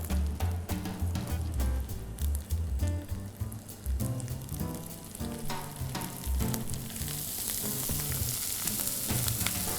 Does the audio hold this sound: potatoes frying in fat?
yes